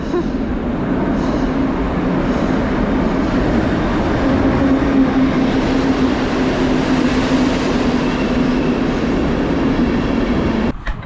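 A train at a station rumbles steadily, a loud continuous low roar with a faint tonal hum, ending with a brief clunk.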